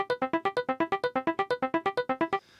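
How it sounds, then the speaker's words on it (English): An electric piano arpeggio sample looped on an Akai Force runs in rapid, even repeated notes, about sixteen bright plucked tones in a row, then stops and leaves a faint tail. "You can hear it's just like an electric piano doing some arpeggiation."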